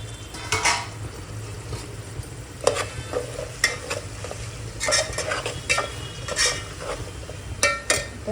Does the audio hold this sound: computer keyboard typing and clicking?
no